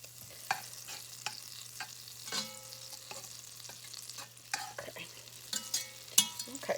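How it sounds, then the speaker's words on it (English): Butter melts in a pot for one-pot chili, a low steady sizzle punctuated by sharp spoon taps and scrapes at irregular intervals against the pot, with a constant low hum; no speech. "I got that butter melting"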